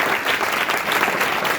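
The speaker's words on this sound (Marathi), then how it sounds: "एकदा आपण सगळ्यांनी टाळ्या वाजवून सरांचे या ठिकाणी" Students break into warm, continuous applause to welcome a guest speaker for a climate change lecture, a close and even wash of many hands with no pauses.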